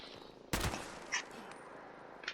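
A single sharp rifle shot from the Fixer in the video game Fallout 76 cracks out once, loud and abrupt, followed by fainter game sounds.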